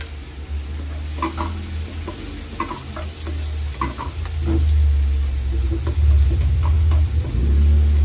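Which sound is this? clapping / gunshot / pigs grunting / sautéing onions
sautéing onions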